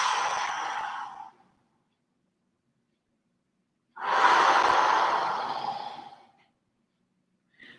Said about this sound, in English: even if you take a big old deep breath now